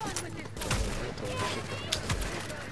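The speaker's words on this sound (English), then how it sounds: "I'm getting shot from all over the place." Gunfire from many directions crackles through a Dark Zone firefight in the shooter game The Division, a steady dense barrage with sharp cracks standing out, while someone talks over it.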